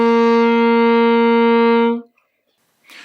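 A saxophone sounds a single sustained G, fingered with the first three left-hand fingers, held steady and clear for about two seconds before stopping, followed by a brief breathy noise.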